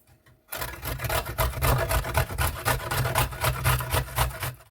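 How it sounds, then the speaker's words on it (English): Fresh ginger root rubbed against a grater, a steady rapid rasping scrape that starts after a brief quiet pause and continues closely and evenly with rhythmic strokes, no voices. "I'm now going to grate up my ginger."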